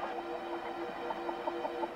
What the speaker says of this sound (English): I think it's a chicken, Dan.